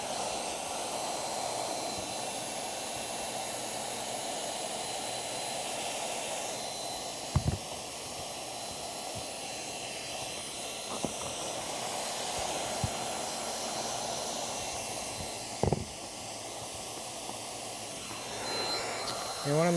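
A hot-air welder fusing the seam of a roofing pitch pan gives a steady, close, continuous hiss, broken by a few sharp clicks and taps.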